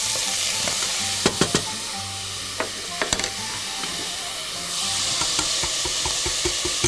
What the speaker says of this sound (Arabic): حطينا اللحمة المفرومة وهنقطعها، نبعد كل حتة عن التانية عشان تطلع موزعة بين الرز